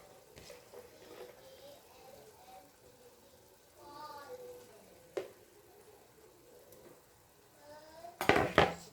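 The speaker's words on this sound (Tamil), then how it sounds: "சிக்கனும் சேர்த்து நல்லா கிளறி விட்டுக்கலாம்" Chicken being stirred in a pot for biryani, with a few soft scrapes and clinks of a utensil against the pot, scattered and fairly faint, ending in a louder burst of metallic clatter.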